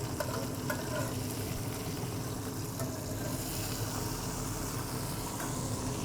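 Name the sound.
smash burger patties sizzling on a griddle after flipping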